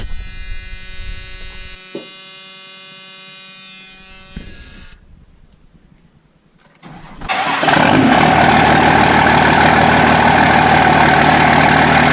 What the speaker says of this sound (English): I'm going to start the truck up and pull it outside a little bit here